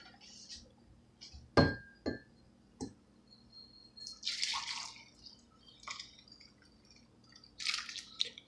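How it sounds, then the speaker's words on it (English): Broth poured into a dish while cooking noodles and meat, with splashy drips, a sharp clink and a couple of knocks against the dish, then wet trickling and splatters, close and fairly quiet. "Wow, that was a bad pouring."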